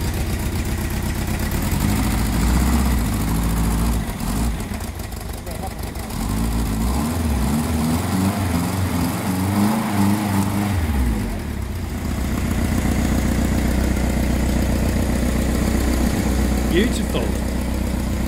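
The engine of Honda's smallest motorbike idles steadily nearby with a low, putting rumble, briefly revving, while people talk over it. It runs off a drip-feed fuel supply.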